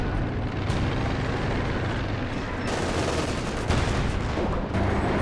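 Mobile howitzers shell the field during a Company of Heroes 2 3v3 battle, a dense, continuous din of blasts and gunfire with no clear pauses, fairly distant and blended together.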